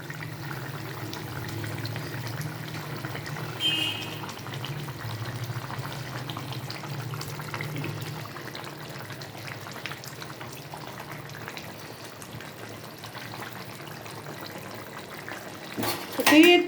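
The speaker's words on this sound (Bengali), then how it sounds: "ঝোলটা আমার ফুটে উঠেছে। এবার আমি মাছগুলোকে এর মধ্যে অ্যাড করে দেবো।" A pot of Bengali rui fish curry with nenua gourd gravy simmers on the stove as fish pieces are added, giving a faint, steady bubbling and sizzle with a brief utensil clatter at the end.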